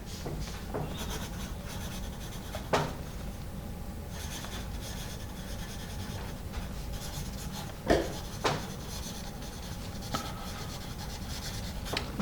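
A soft 2B triangular learning pencil writes on paper up close, making a quiet continuous rub and scratch with a few sharper taps of the point, with no talking.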